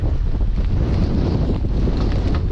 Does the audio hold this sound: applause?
no